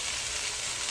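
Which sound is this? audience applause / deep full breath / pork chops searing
pork chops searing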